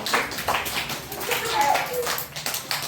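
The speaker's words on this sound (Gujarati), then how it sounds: "ચલો તાળી પાડી" Children clap their hands in an anganwadi classroom, a quick burst of overlapping claps close by, mixed with voices talking.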